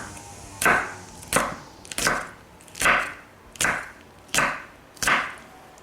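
Knife cutting the ends off serrano chilies on a board, seven crisp, evenly spaced chops at a steady unhurried rhythm, close and clear.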